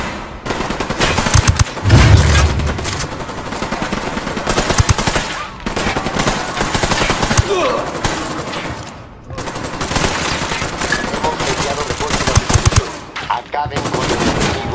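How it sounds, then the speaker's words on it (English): Sustained, heavy automatic gunfire in Ghost Recon Wildlands, dense overlapping bursts rattling almost continuously with brief lulls, loud and close, with a heavy low thump near the start. "Opening fire."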